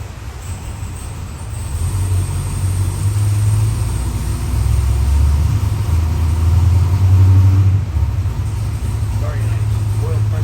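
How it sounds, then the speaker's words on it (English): A Chevy 302 cubic-inch small-journal small block carbureted performance crate engine runs on a stand, a loud steady idle rumble with slight swells, while a person talks over it. "It's that beautiful 302 carbureted engine."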